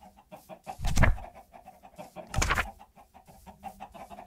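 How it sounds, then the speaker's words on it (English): A chicken in the Minecraft video game clucks in two louder bursts among softer repeated clucks, close and clear with no talking. "Look at this chicken."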